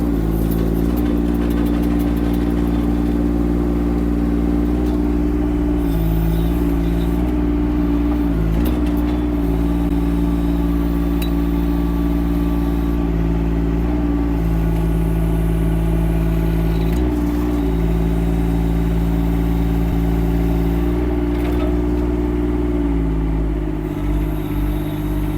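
A Chinese mini excavator engine runs steadily nearby with a loud, deep, even drone, its pitch dipping slightly a few times as the load changes.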